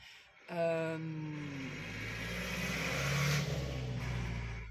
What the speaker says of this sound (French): on attend que le camion y passe